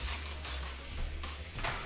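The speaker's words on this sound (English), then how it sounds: "I'm going to spray it with vegetable oil so that it doesn't stick." Vegetable oil cooking spray hisses from a can into a pie plate in a kitchen, a steady close airy spray lasting under two seconds with slight pulses, no talking.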